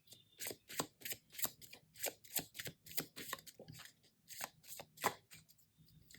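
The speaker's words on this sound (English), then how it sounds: "So let's shuffle more." Close, crisp riffle-and-slap bursts of tarot cards being shuffled, repeated in a quick irregular rhythm, with no talking.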